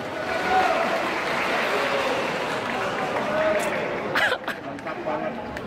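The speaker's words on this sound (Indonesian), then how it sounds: "Tepuk tangan untuk pasangan calon nomor urut 1." A crowd applauds steadily throughout at a regional election candidates' debate in West Lampung, a broad wash of clapping mixed with murmuring voices and brief chatter near the end.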